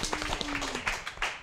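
A comedy fight club audience claps and applauds in a dense, steady burst to vote for a fighter, a close roomful of hands with no voices standing out.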